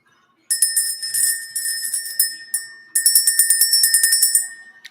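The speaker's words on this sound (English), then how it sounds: "Let's go ahead and ring the bell." A small bell rung to clear the energy, bright metallic rings repeating in two bursts, the second a rapid steady series of strikes that fade out, close and alone.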